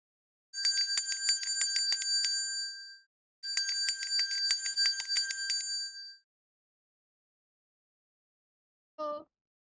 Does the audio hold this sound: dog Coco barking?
no